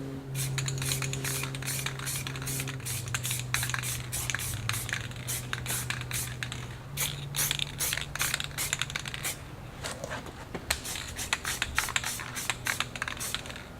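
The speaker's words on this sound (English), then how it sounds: "Your first coat should always be very light, like a tack coat, and this way the next coats stick much better to it." Aerosol spray paint hisses onto car exhaust tips in a light first coat, a series of short, close bursts and rapid sputtering pulses against a low steady hum, with no talk.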